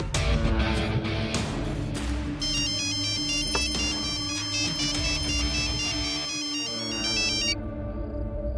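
A mobile phone ringtone plays while a call is placed to Karan, a steady repeating electronic melody with a bright tone that runs for several seconds under a low musical background, with no talking.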